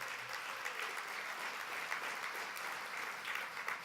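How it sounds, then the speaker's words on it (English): A crowd at the YEA 2013 event gives Pete Muntean a round of applause, a steady, even wash of many hands clapping at a moderate distance with no voices over it. "let's give Pete a round of applause"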